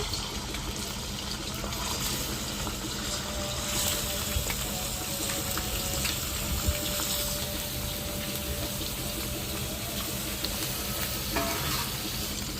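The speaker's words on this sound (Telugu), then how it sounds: "నూనె అయితే వేడెక్కింది కదా. చికెన్ అయితే వేసుకుందాము." Washed chicken dropped into hot oil in a pan, a dense steady sizzle and crackle filling the whole stretch, loud and continuous with no talking.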